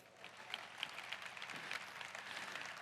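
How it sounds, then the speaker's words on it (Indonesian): An audience at a team motivational seminar applauds, a soft, distant wash of many hands clapping steadily for a few seconds with no voices over it. "kita beri tepuk tangan untuk diri kita terlebih dahulu"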